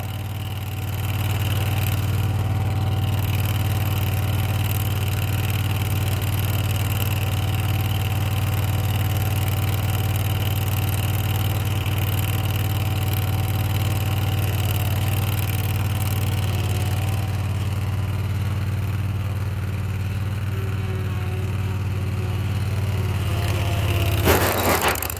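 A zero-turn mower engine with a blown-out muffler and missing baffles runs loud and steady, giving a raw, rumbling roar that holds for over twenty seconds before cutting off near the end.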